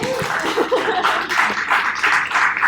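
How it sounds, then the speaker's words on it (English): An audience claps for a speaker named Damian at a Palm Beach talk, a moderate burst of steady applause with a few chuckles mixed in. "So clap for Damian"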